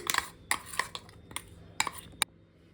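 Ground paste for kaima balls scooped into a bowl already holding roasted gram, heard as half a dozen sharp spoon-on-bowl clinks and scrapes in an irregular rhythm, close and clear with no talk.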